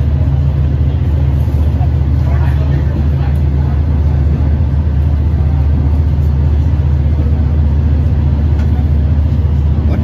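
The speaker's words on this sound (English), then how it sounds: "He's clearly got the diesel engines on." A constant deep diesel drone from an LIRR Cannonball train's engines, loud and unbroken for the whole stretch, with faint voices under it.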